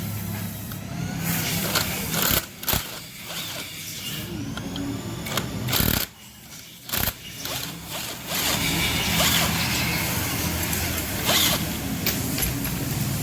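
Bolts being undone on the clutch cover of a Yamaha Vixion motorcycle, a busy run of close metallic ratcheting and rasping with a few short pauses, loud and steady with no talking.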